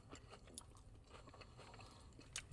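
Someone bites into and chews a crunchy Taco Bell Cheez-It Crunchwrap close up, soft repeated crunches and wet mastication running through with a sharper crackle near the end.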